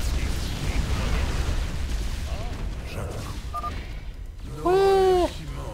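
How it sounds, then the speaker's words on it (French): Yamato cannons in the StarCraft 2 campaign fire with a loud burst near the end, a bright descending tonal charge-up and blast with harmonic sweeps, heard over game music and ambience after some rumbling effects. "on balance tous les canons Yamato."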